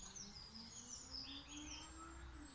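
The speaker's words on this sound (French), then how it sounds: "Qu'est-ce que c'est agréable d'entendre les petits oiseaux" Small birds chirp and tweet outdoors in the morning, a scatter of faint, high calls drifting at a distance over a quiet background hum.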